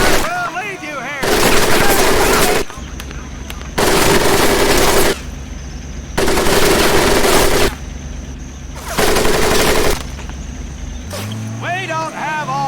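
Heavy gunfire in the Medal of Honor: Pacific Assault training course: loud, sustained machine-gun bursts repeat in regular waves with short pauses, and a shouting voice is heard between them.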